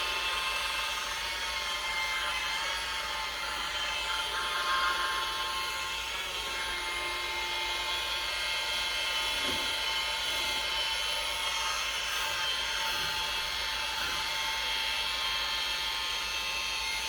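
A polisher with a high-cutting lambswool pad works over a faded headlight, a steady high motor whine with a buzzing edge running close and unbroken throughout.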